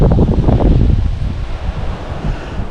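Steady wind buffeting an outdoor microphone by a fishing spot, a loud continuous low rumble and roar that surges at the start and then settles into a gusty, fluttering wash.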